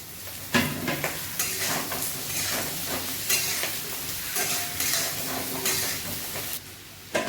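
Tomato goes into a hot wok while khichuri cooks, producing a loud, continuous frying sizzle with bursts of stirring. The sound drops quieter near the end before a final clatter.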